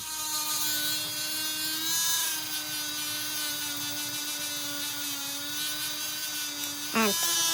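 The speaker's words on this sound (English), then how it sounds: "So if I push down too hard, the Dremel slows down." A Dremel rotary tool polishes petrified wood with 240-grit abrasive, a sustained high whine that sags in pitch as pressure is applied, ending in a brief sharp scrape.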